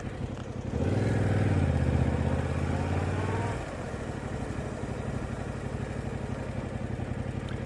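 A motorcycle engine on a Module 1 riding test course in Gateshead, revving louder for a few seconds then settling back to a steady idle-like run nearby.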